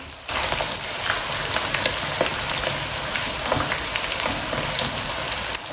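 Tomatoes hit onions already softened in a frying pan for dhaba-style masala bhindi, setting off a loud, steady sizzle with scattered crackling pops that runs unbroken and close throughout.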